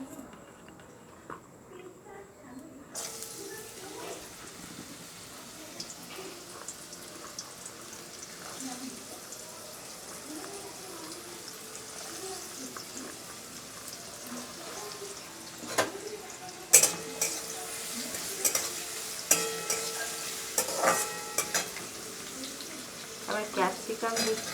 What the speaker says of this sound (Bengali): তেলটা এবার গরম হয়ে গেছে, আমি এই তেলের মধ্যে গাজর দিয়ে দিচ্ছি।